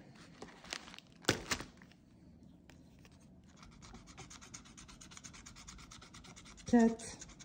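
Scratch card being scratched at a table, a soft steady rubbing and scraping that runs for several seconds, with a few sharper taps and rustles near the start and a brief louder scrape near the end.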